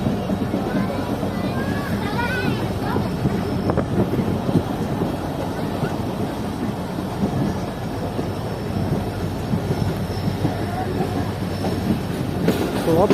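The Shah Latif Express rolls along its rails between Karachi and Mirpurkhas with a continuous rumbling clatter of wheels and carriages, steady and close throughout, with faint murmuring in the background.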